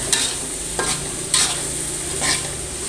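Tempeh stirred into frying spices in a pan, a steady close sizzle broken by a few sharp scraping stirs.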